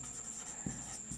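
Pen scratching across paper while writing notes in a class, a soft continuous close scribble with two faint taps, steady under a high electrical whine and no talk.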